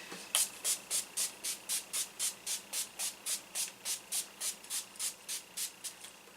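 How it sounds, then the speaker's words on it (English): Rapid series of about seventeen short, evenly spaced hissing bursts from a NYX Dewy Finish makeup setting spray pump bottle, close and fairly quiet, with no voices. "now we're just going to hit with a little bit of setting spray"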